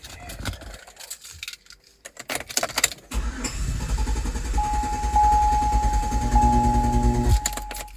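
A 2005 Chevrolet Tahoe 4x4 with a 5.3L V8 and a crank-no-start stalling fault, cranking loudly and steadily for about four seconds after a few key clicks and rattles, then cutting off abruptly.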